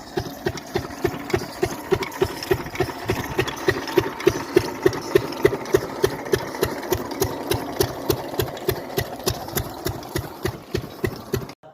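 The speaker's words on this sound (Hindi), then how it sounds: "फिर अपना वो जो खेत वाला इंजन था वो चलाया, उसमें तेल डाल के फिर वो चलाया" A diesel farm irrigation engine running steadily in a field, a close, loud, regular chugging beat that holds an even rhythm throughout.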